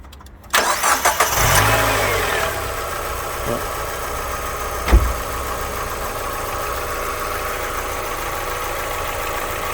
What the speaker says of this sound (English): What you do is go and start the engine. Don't rev it. Don't rev it at all. Just simply turn the key.